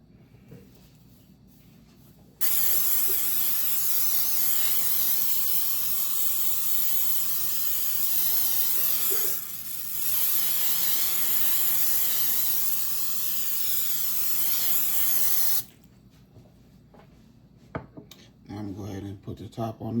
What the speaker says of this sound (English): Now we'll give it a nice spray with some vegetable oil.